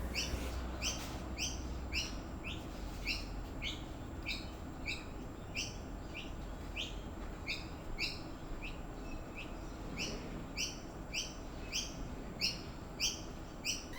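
A pheasant coucal, also called a swamp pheasant, calls in a backyard garden, giving repeated short bright notes in a regular rhythm over a quiet outdoor background for the whole stretch.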